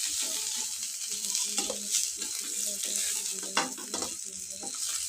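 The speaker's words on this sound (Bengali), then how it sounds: "মাছগুলো এমনভাবেই লাল লাল করে ভেজে নেব।" Mrigel fish sizzle in hot oil with a steady, close frying hiss. Occasional clinks and scrapes of stirring rise above the continuous crackle.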